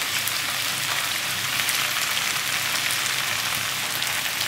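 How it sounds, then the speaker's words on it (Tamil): Onions and boiled noodles sauté in a pan over high flame for Pad Thai, giving a constant loud hissing sizzle with faint crackles throughout and no talk. "இதையும் ஹை ஃப்ளேமில் ஜஸ்ட் ஒரு 1 மினிட் சாட்டே பண்ணிப்போம்."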